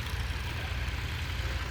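A tractor engine drones steadily with a rotavator attached, a low heavy rumble running continuously at moderate distance with no voices.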